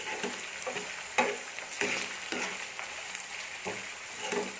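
Garlic and ginger sautéing in a pan for banana stem pickle: a soft, steady sizzle broken by rhythmic stirring scrapes and taps, close and fairly quiet, with no talking.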